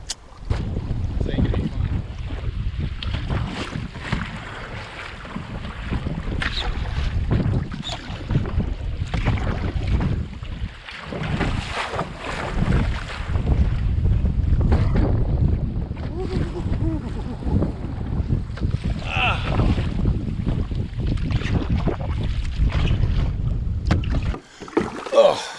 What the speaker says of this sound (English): So windy and choppy out there in the middle of that lake.